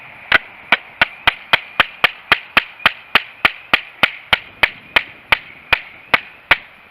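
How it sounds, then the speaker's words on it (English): A Marttiini Bowie knife chops through 1-inch diameter wood in a steady series of about twenty sharp, evenly spaced strikes, each a crisp close impact with a short woody crack and no talk. "Cut some more 1-inch diameter wood."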